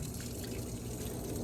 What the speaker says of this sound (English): You can hear it filling up with water right now.